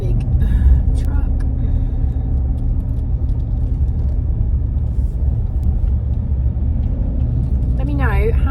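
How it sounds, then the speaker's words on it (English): A big truck drives past in a steady, loud low rumble of road traffic heard from inside a car, with a brief rising whine near the end. "There's a big truck."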